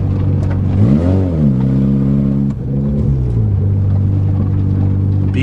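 A Toyota GTS car driven fast in first gear across a dusty farm, a steady loud engine rumble that swells in pitch as it revs, then eases back down and settles.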